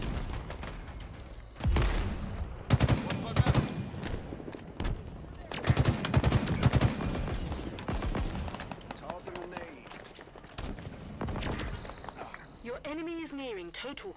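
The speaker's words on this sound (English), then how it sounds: "I'm getting shot from the behind now." Rapid gunfire and explosions in the shooter game Halo Infinite, bursts of automatic fire and impacts coming in waves, with a player talking over much of the action.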